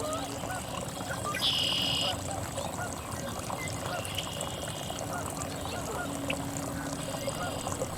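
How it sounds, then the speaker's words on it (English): A Canada goose gives a short honk, then fainter calls follow, over a steady outdoor background of rushing water or wind, with no one talking. "Of course, it's a Canada goose."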